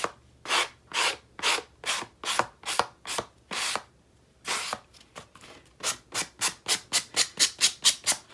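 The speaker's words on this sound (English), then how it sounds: "if you get these rough edges, just use a nail buffing block to" A nail buffing block rubbed along the rough cut edges of a handmade stamped Christmas card, giving repeated short scratchy strokes in a steady rhythm, close and fairly quiet, speeding up toward the end.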